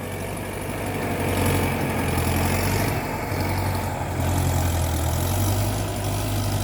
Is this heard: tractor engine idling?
yes